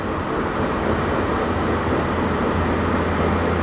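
A van with a bad wheel bearing driving at about 80 km/h, giving a steady, broad roar and rumble of road and bearing noise with no talking.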